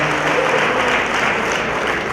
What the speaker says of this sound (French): Est-ce qu'on peut applaudir très fort pour Papa Merci.